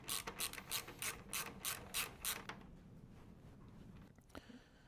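A ratchet socket wrench with a 10mm socket turns a bolt holding the fuel tank on a Himalayan 450 motorcycle, giving about eight quick, even clicking bursts up close before falling quiet.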